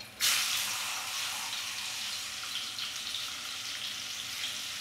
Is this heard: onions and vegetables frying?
yes